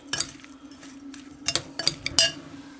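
A utensil scrapes and clinks against a bowl while stuffing for sole is mixed, a handful of close, uneven knocks and rattles in a quiet kitchen with no speech.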